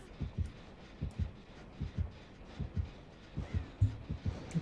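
The heartbeat warning in the horror game Dead by Daylight thumps quietly as a steady run of low double beats, repeating about once a second under a faint background hum.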